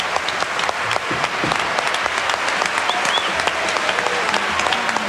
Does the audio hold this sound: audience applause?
yes